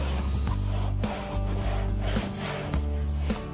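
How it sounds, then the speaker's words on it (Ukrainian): A cloth rubs polish into plastic car interior trim, making a steady close scrubbing and swishing sound with rhythmic strokes under a low sustained background hum. "трохи треба втерти поліроль"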